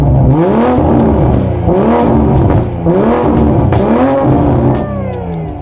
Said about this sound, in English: I'm gonna get a sound clip of everybody's car.